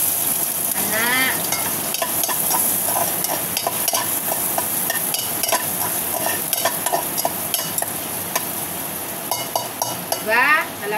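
Garlic sautés in a pan with a loud, continuous sizzle, broken by frequent scraping and clinking of a utensil stirring against the pan, up close.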